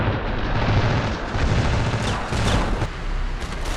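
Frog gun automatic shotgun from a Ravenfield custom weapon mod, firing in rapid continuous bursts of dense booming blasts that run throughout with brief gaps, no voices.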